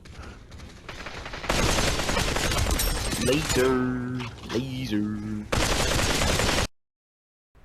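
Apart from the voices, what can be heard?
AK rifle firing in video game Population: One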